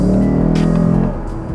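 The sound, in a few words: Lexus RC F Track Edition engine downshifting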